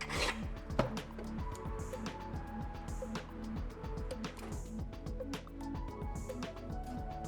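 A metal ring's sides are smoothed with a hand file at a jewelry bench, steady back-and-forth rasping strokes repeating in a regular rhythm, close and fairly quiet.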